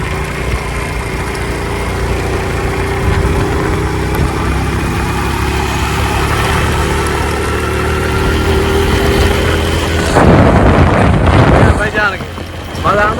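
A motorcycle engine drones steadily on a village outing, a loud continuous rumble buffeted by wind noise, growing rougher and louder toward the end.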